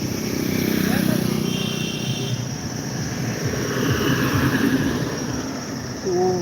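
A motorcycle engine drones past on a road in Bihar, India, amid traffic noise, rising and fading, with a voice speaking over it.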